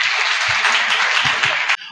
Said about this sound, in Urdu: تالیاں بجایا کریں